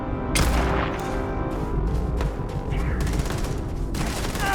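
Gunfire in the video game Starfield, including sniper rifle shots, sounds as a steady, dense battle din of repeated cracks and booms. A few sharper reports stand out against a continuous rumble.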